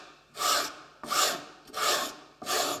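A toothing plane scraping channels across wood grain in four loud, evenly spaced rasping strokes, each lasting about a third of a second, close up with no talking.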